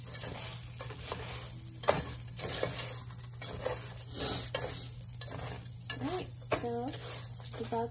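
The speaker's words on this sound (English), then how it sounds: "Keep stirring because the heat doesn't flow instantly." Spanish rice stirred in a hot pan, a steady sizzle with repeated scraping strokes of a spoon against the pan bottom, close and continuous, with faint voice-like sounds in the background.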